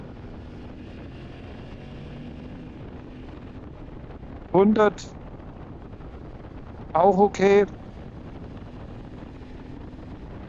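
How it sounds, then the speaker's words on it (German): Wind buffeting a motorcycle helmet behind a Ténéré 700 Rally windshield at about 80 km/h: a steady, broad rushing roar throughout, with brief spoken words from the rider breaking through twice. "Der Wind kommt oben am Helm an."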